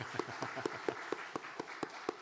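Sparse, slow clapping from a church congregation at a Friday prayer service, applauding the youth worship team: roughly ten evenly spaced claps, fairly faint and alone with no talk.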